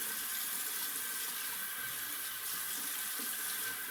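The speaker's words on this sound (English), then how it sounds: "Alright, cold water rinse." Steady hiss of cold tap water running into a sink for a wet-shave rinse, continuous and fairly close, with no voices.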